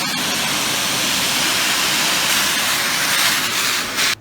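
A small electric brazing and soldering torch burns a hot oxyhydrogen flame, giving a steady, loud, broadband roaring hiss that runs unbroken for about four seconds and then cuts off abruptly at the end.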